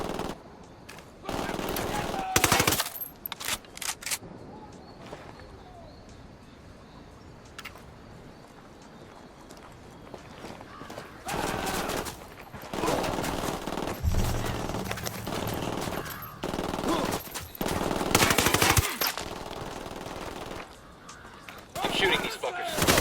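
Bursts of automatic gunfire in the shooter video game Ghost Recon Wildlands, loud and uneven, separated by quieter gaps. Someone talks over parts of it.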